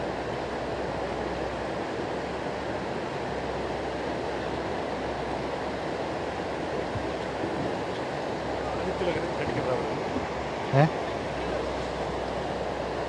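Flooded Beas river in Kullu-Manali, 2025, rushing in a steady broadband roar of churning water that fills the whole clip, with a voice speaking briefly over it.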